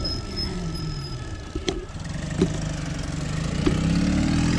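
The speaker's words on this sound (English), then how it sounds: "Internal combustion engine bike, but still pretty cool." A passing motorbike with an internal combustion engine and a sidecar seat beside the rider, heard as a steady mid-pitched engine drone that rises slightly as it approaches. There is no talk.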